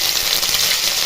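Grated ginger dropped into hot mustard oil with cumin seeds for a tempering, giving a loud, dense, hissing sizzle that holds steady and close for about a second.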